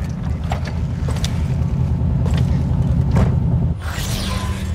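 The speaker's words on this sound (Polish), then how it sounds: "Będę trzymał silnik na chodzie." A car engine idles in Cyberpunk 2077, a steady low rumble that holds through the whole stretch, with a brief shift in the sound near the end.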